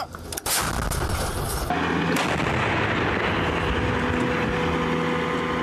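A CAESAR self-propelled howitzer fires a booming shot, then a second blast follows, leaving a rolling rumble and engine noise.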